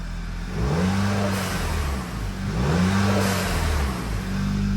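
An Audi A3 8P engine accelerates in two rising pulls through the gears, with a whooshing turbo character and a diverter valve spacer fitted, recorded from inside the car.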